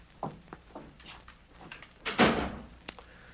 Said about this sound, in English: Go on out and shut the door.